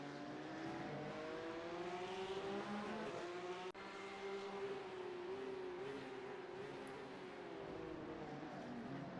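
Porsche Cup race cars in a sim racing game, a loud engine note climbing and falling through gear changes, with a brief tire squeal and a short break midway, alone without talk.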